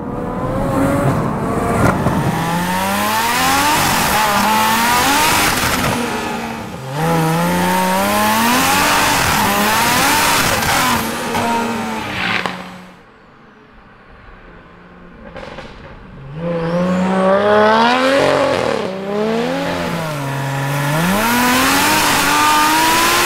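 An 880bhp BMW M140i engine revs hard again and again, each sweep climbing to the limiter with a harsh, aggressive roar. It is loud and close, with a short quieter idle gap midway.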